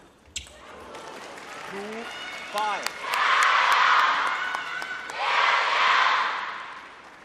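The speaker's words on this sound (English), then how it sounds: "The crowd reacting to the tomahawk serve." Spectators at a women's singles table tennis quarterfinal in China swell into two loud bursts of cheering and applause after a serve, with a few quick ball clicks and whoops before.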